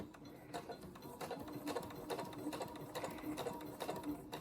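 A sewing machine runs steadily, stitching a pillowcase seam toward its starting stitches, a continuous rapid mechanical whir with a fast needle rhythm, close and fairly loud, with no voices.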